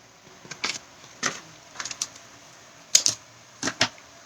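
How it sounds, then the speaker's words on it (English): Snips cutting a small piece of card along a score line, heard as a series of sharp, close, crisp clicks spaced unevenly with quiet gaps between cuts. "Our snips, and we're just going to follow that score line there and snip that little piece off."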